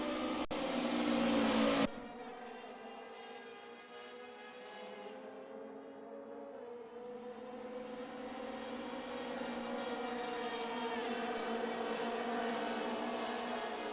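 DTM race cars in a sim racing game roar past, a loud burst of engine noise that cuts off and gives way to a sustained, droning engine whine that rises and falls.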